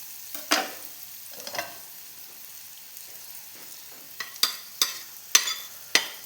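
Onions sautéing in a pan for a chena (yam) roast, with soft sizzling underneath and a series of sharp scraping stirs, sparse at first and then coming in quick repeated strokes near the end.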